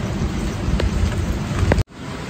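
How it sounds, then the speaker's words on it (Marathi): Heavy rain pours in a dense, continuous roar close by, then cuts off abruptly and resumes more softly. "पाऊस चांगला येतोय."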